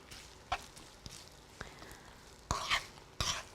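Food sizzling quietly in a pan in a home kitchen, with a faint frying hiss and a few sharp utensil clinks and scrapes against the pan, close and low in level.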